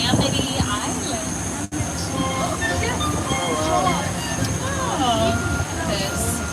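A Universal Studios tour tram rolls along with a steady rumble and faint squeaks, while a guide talks over a speaker system throughout.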